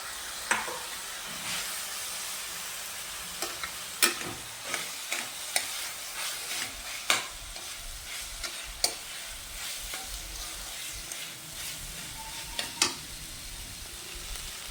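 Potato pieces being stirred into a pan of sizzling spices with chaat masala, a steady frying hiss with repeated sharp scrapes and clinks of a spoon against the pan.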